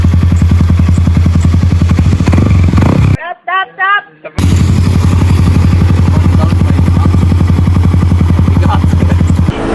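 A Yamaha R15 v3 motorcycle engine runs loud and close, a steady low rumble with a rapid firing pulse that cuts out briefly, then resumes at a similar idle-like throb.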